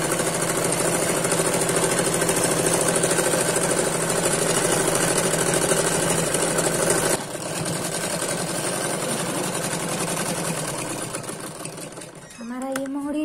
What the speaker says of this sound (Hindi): और इसको हम एक सिलाई और चलाते हुए इसको उतार देंगे।